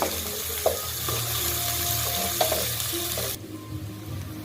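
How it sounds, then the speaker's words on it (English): Ginger garlic paste, three tablespoons' worth, sautes in a hot pan with a steady close sizzle and a few stirring scrapes, the frying noise dropping slightly near the end. "So 3 tablespoons of ginger garlic paste. I will saute a bit."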